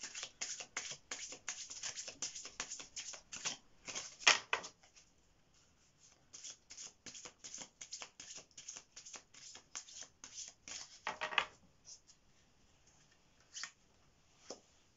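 Tarot cards from the Inner Shadows deck shuffled by hand in quick, crisp riffling bursts, pausing briefly and starting again, with a few louder snaps.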